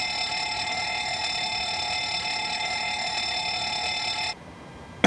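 A fire test alarm sounds in an airliner cockpit in the FS2020 flight simulator, a steady, shrill electronic tone that holds for about four seconds, then cuts off abruptly, leaving quiet hum.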